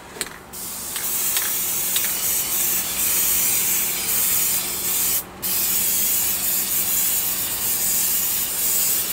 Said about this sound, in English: I'm going to go ahead and get it spray painted.